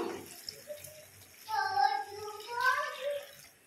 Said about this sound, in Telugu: ఇప్పుడు వాటర్ పోస్తున్నాను.